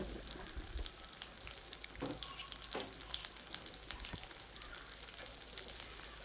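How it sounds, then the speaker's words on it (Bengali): Onions with turmeric powder sizzle in a pan, a steady crackling fry with scattered pops and occasional stirring scrapes, heard close and alone. "পেঁয়াজগুলো তো আমার ভাজা হয়ে গেছে"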